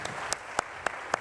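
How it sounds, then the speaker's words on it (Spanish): A few slow, evenly spaced claps from the audience at a book presentation during the Semana Negra festival, about five distinct faint hand claps over a low background hum. "con este fuerte aplauso"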